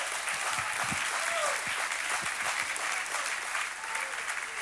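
Congregation applauding at an Easter Sunday church service, a continuous roar of many hands clapping throughout, fairly distant in the room, with a few voices calling out over it.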